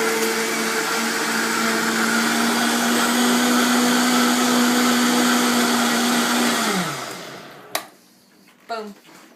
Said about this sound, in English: Now you can see how amazing this blender is.